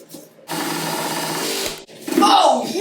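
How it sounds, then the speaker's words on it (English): A power drill whirs steadily for over a second, stops briefly, then resumes with a higher, straining tone as the bit bites into an antique wooden shelf. "Let's try to drill in the bottom bit again."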